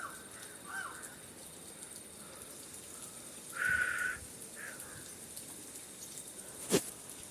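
Crows caw outdoors: one brief, moderately loud caw stands out in the middle, with fainter calls around it over a steady background hiss and a sharp knock near the end.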